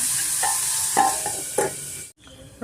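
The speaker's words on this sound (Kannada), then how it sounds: "ಈರುಳ್ಳಿ ಫ್ರೈ ಆಗಿದೆ" Onions sizzle loudly in a pan as they are stirred and fried for brinjal fry, with repeated scraping strokes over a steady hiss, then a brief pause near the end.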